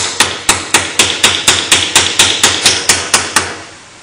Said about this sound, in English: Hammer them into the rim so they will seat.